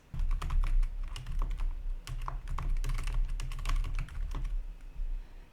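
Rapid typing on a computer keyboard, a close, steady stream of soft key clicks with irregular rhythm and no voices.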